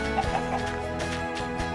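Chickens in Minecraft give soft, repeated clucks over a steady layer of background music, fairly quiet and evenly spaced.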